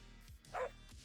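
A Minecraft dog gives one short, quiet bark amid soft game background sounds, with no talking.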